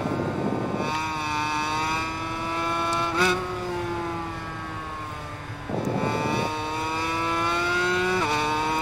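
A 250cc two-stroke GP motorcycle in the racing game Ride 5 screams at high revs, its sharp buzzing note climbing through gears with brief drops at each shift, loud and steady throughout.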